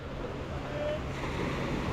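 Sea waves wash onto a beach in Cancun, with a steady, broad surf roar and light wind rumble throughout, moderately loud and continuous with no talking.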